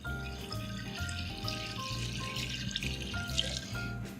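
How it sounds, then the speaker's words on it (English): Water poured into a cooking pan of braising tomato sauce for a rabbit braise, a steady close splashing and trickling wash that runs continuously, with background music tones underneath. "Okay, water comes in."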